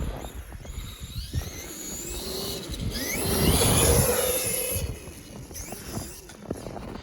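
A Traxxas E-Revo 2.0 RC car drives through packed snow, its electric motor whining and rising to a louder, fuller rush midway before easing back, heard from a short distance with no talking.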